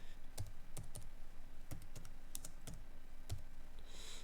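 Someone typing on a computer keyboard while setting up a YouTube channel, irregular close key clicks spaced through a steady background hum, with no talk.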